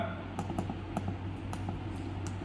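Keys on a computer keyboard are struck in a quick run of light, sharp clicks, with a few separate taps spaced out, over a steady low hum in a testing room.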